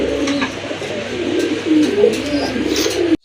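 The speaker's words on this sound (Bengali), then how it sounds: "আরেক জোড়া কবুতর, দেশি কবুতর, খুবই ভালো ডাকে" Deep, rolling coos from a pair of native desi pigeons, a hen among them, repeating closely and loudly for a few seconds with faint chirps overhead, then cutting off abruptly.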